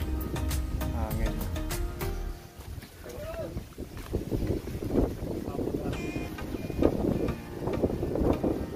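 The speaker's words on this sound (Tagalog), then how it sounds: "Hangin." Gusty outdoor wind buffets the microphone at a rest house in Rizal, rising and falling in rough, noisy bursts, while people talk over it.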